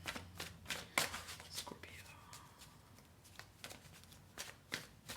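Tarot cards shuffled by hand in a quiet room, a series of crisp riffling bursts and soft taps at uneven intervals, close to the microphone, with a faint whisper-like hush between them.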